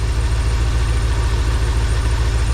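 A car engine idles with a steady, low, throbbing rumble, loud and close, with no voices.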